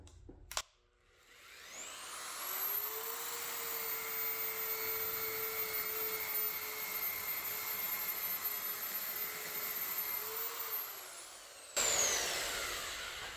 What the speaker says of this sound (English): This belt sander on an angle grinder setup conforms around a tube like that.